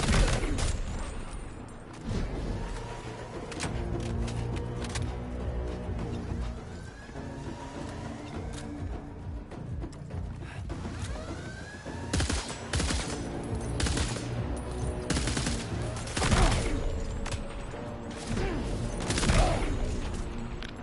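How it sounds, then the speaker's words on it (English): Enemy gunfire in Death Stranding 2 pours in as near-continuous automatic bursts and loud sharp cracks over a dense, busy game soundscape, lasting throughout with heavier volleys toward the end. "There's somebody else shooting me from over here."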